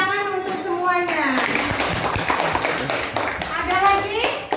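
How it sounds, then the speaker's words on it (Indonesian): Classroom applause for student groups after a discussion, a burst of children clapping together at close range, with kids' voices and chatter mixed throughout. "Tepuk tangan untuk semuanya."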